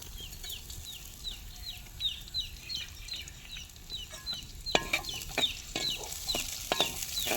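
Thin green chilli pieces fry in leftover oil for village-style gongura chicken, a soft steady sizzle broken by bright clicking scrapes of a spoon stirring against the pan, growing busier and louder toward the end.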